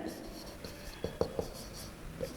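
A marker scratches and taps on a board during a physics lecture on the p-n junction, giving a string of short strokes with a few sharper clicks, close and fairly quiet.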